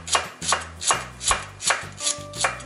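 Three garlic cloves are minced with a knife on a cutting board in a steady, close rhythm of about seven sharp chops with dull thuds, and no one talks.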